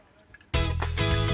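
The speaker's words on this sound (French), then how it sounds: "il n'y a plus qu'à venir sur le petit robinet" Water running from the small tap of a Berkey Travel gravity filter in a camper van, a sudden steady splashing stream starting after a quiet moment and continuing close up.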